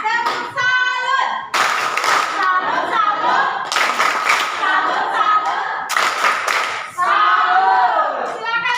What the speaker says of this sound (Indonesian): 1, 2, 3. Tepuk salut.